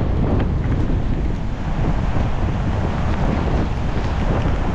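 Strong wind roars steadily in an outdoor setting with heavy buffeting against the microphone, a constant loud rushing noise with no distinct breaking sound and no talk.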